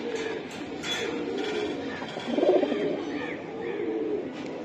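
Pigeons of an old Chila breed, large birds, coo in a loft with a low throaty warble that swells briefly midway, joined by scattered chirps and faint background voices.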